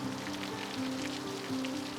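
Steady rain falls outdoors, a dense even hiss of drops on surfaces filling the whole stretch, with a faint low tonal hum underneath and no voices.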